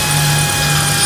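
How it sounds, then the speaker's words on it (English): Power driver spinning self-tapping screws into metal on a catwalk repair, a steady loud whirring drone running throughout with no pauses. "These are self-tappers, so they're supposed to just"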